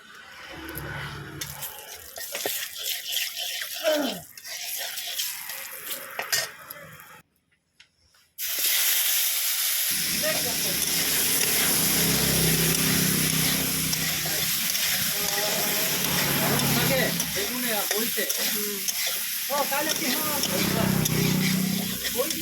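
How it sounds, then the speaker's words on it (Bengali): Small brinjals frying in oil: a loud, continuous hiss that starts abruptly after a brief pause and carries on steadily, preceded by someone talking. "বেগুনগুলো কেটে নিলাম এগুলো ছোটো ছোটো বেগুন ছিল এগুলো ভাজবো"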